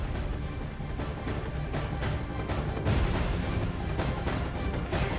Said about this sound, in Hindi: बदमाशों ने सोशल मीडिया पर फायरिंग का वीडियो भी शेयर किया।